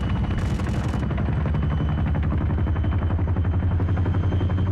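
A Chinook helicopter flying in a military video game, its heavy rotor thump pulsing steadily and loudly throughout, with a brief burst of hiss or gunfire-like crackle near the start.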